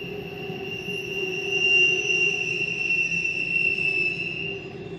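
A Norfolk Southern freight train rolls past at close range in Braddock, Pennsylvania, with a caboose going by, wheels giving a sustained high metallic squeal over a steady rumble that swells and eases.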